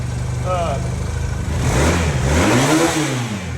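A Honda Quicksilver, back running after sitting for 37 years, revs loudly and unevenly close by, the engine note rising and falling with a few blips, while a voice speaks briefly over the start.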